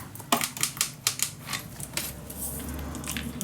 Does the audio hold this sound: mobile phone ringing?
no